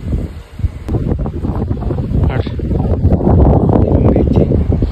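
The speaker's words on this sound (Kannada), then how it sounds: "ತಣ್ಣಗೆ ಗಾಳಿ ಬಿಟ್ಟೈತಿ" Cold wind gusts across a house rooftop, buffeting the microphone with loud, rumbling bursts and rustling, rising in strength toward the end.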